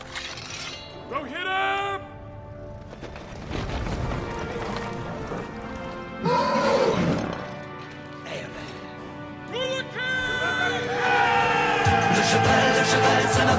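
Galloping hooves of a cavalry charge pound under a swelling mix of horse whinnies and shouting, loud and chaotic throughout.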